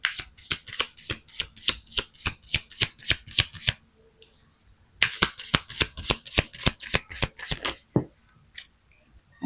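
Tarot cards are shuffled close by in a rapid, rhythmic run of crisp slaps, followed by a short pause, then a second run that ends as a single card drops.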